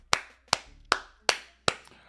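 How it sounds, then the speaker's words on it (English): Five slow, deliberate single hand claps ring out evenly spaced, each sharp and close in an otherwise quiet room, a sarcastic golf clap. "Nice little golf clap, sarcastic clap at that."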